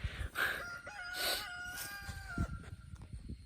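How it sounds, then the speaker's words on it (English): A rooster crows once, a long drawn-out call with a rising start and sustained tail, fairly close, with faint background rustle. "I hate that rooster."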